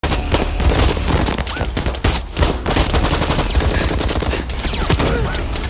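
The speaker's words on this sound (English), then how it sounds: "Jimmy ordered his right hand to finish them all, including the dentist, until a shootout finally occurred." Heavy gunfire in a film shootout, with loud continuous rapid bursts and scattered thumps that fill the whole stretch.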